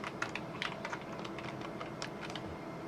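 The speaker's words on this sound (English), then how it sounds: "I feel like my finger placement on the keyboard's probably quite unusual." Rapid clicking keystrokes on a computer keyboard while playing Duke Nukem 3D, a steady irregular patter of light taps at close range over a low background hum, with no talking.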